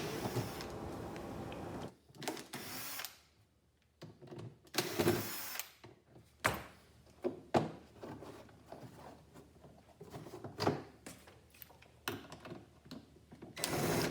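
Phillips screws being removed from the side belt cover of a Snow Joe snow blower, heard as quiet intermittent whirring bursts and small clicks with pauses between, close by and faint.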